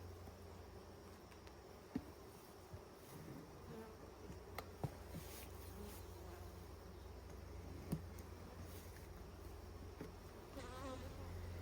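Honey bees buzzing around a nucleus hive outdoors, a steady, soft droning hum of many insects with occasional closer individual buzzes and faint clicks, continuous throughout.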